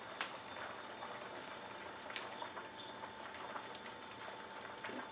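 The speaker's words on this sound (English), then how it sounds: "This will slowly evaporate the water and begin to sizzle your butter." Butter sizzles in a pan as water evaporates, a very faint, fine crackling hiss with occasional tiny pops, quiet and close with no voice.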